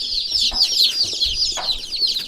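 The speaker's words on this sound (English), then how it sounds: "Look at the chicks over here." Many baby chicks peeping in a brooder set up in a basement: a dense, continuous chorus of high, close cheeps, fairly loud and overlapping, with no talk over them.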